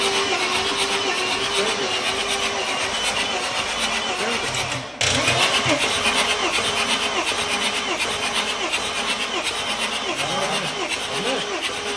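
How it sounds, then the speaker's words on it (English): Mercedes E320 CDI diesel, a 211-series model, cranks repeatedly without starting; the starter whirs in a steady rhythmic chug, loud and close, with a brief dropout midway before cranking resumes. "you can simply use contact right in here, and the engine will crank but not start."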